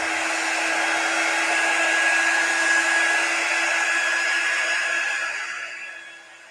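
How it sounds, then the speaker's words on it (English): A heat tool blows steadily to warm wax on a wood cutout, a loud, even whooshing roar with a constant tonal whine that holds for several seconds before tapering off as it shuts down. "Okay, so I'm going to heat the wax up."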